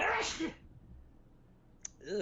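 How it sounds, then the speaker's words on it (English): A person sneezes sharply up close, followed by a short pause and a grunt-like vocal reaction. "Oh, now I got a sneezing."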